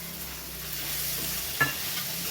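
Fried capsicum stirred into a tomato and onion masala in a pan gives a steady, close sizzle, with one brief scrape or clink of the spoon partway through.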